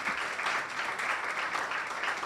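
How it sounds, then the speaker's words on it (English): An audience applauds a panel at a PR summit, a dense steady wash of clapping from many hands throughout, no voices over it. "A round of applause for the panel,"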